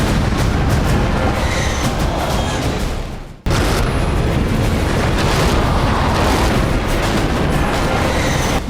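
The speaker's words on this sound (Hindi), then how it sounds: "अब विरोधियों के टैंक और तोपों के साथ बस्तियों पर बारूद बरसाया जाने लगा है।" Artillery and tank fire in the Nagorno-Karabakh war zone makes a dense, loud, continuous roar of blasts and rumbling, broken once by a sudden cut before the barrage resumes.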